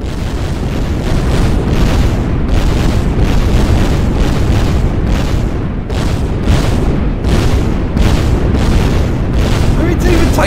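Explosions from the turbo fragger weapon in the video game Kittypocalypse pound continuously, a loud, dense barrage of rumbling booms and blasts with a voice partly buried underneath.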